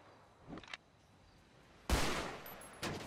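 Gunfire in a tense chase: a faint distant burst early on, then a loud, close blast followed by lingering noise and another sharp report near the end; no talking.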